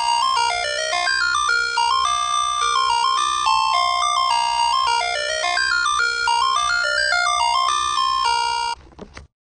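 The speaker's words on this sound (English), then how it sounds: "Ice cream truck." An electronic ice cream truck jingle plays a bright, chiming tune that loops for several seconds at close range and then cuts off abruptly.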